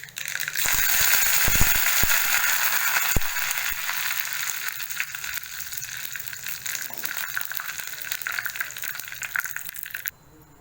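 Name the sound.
mustard seeds and curry leaves sizzling in hot coconut oil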